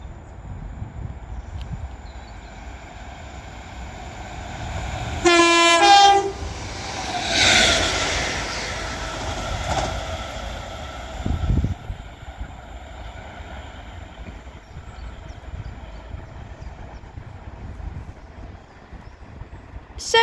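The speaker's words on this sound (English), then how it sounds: "Now passing through is a Northern 769 for Southport." Northern class 769 train passing through Kearsley station, sounding a loud two-tone horn, then rumbling past up close with wheel clatter before fading away.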